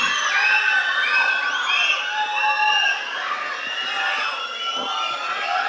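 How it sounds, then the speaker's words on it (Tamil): Crowd at a film audio launch event cheering and shouting, with high-pitched screams and whistles overlapping in a dense, continuous roar that holds steady throughout. "நல்ல நல்ல கைத்தட்டலோட நம்ம வீட்டு பிள்ளைனா எம்ஜிஆர், எங்க வீட்டு பிள்ளைனா வேற யாரு, அண்ணன் எஸ்கே அவர்களை பேச அழைக்கிறோம்."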